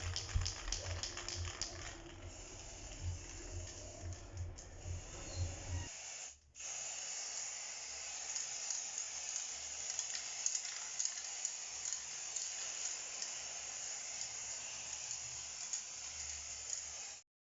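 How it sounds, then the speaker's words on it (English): A steady, hissing spray of gold spray paint runs continuously for most of the clip after a short bout of tapping and handling noise, close to the microphone. "So now we go ahead to spray paint, and I'm using gold."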